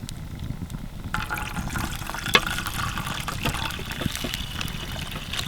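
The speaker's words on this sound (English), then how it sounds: "You want to pour it through a sock so we don't get any Y bones?" Fish broth trickles and splashes steadily through a sock for several seconds, a continuous pouring sound with a brief sharper clink midway, outdoors in the wilderness.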